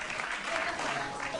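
A studio audience claps at an Indonesian TV comedy talk show, a steady dense wash of applause with faint voices mixed in.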